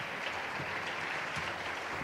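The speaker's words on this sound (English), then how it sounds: "Big applause to Pilar and Juan Luis Hortelano" Audience applause at the Valencia Digital Summit 2023 on the Summit Stage, greeting Pilar Bernabé and Juan Luis Hortelano of Startup Valencia; a steady, moderately distant wash of many hands clapping with no voices over it.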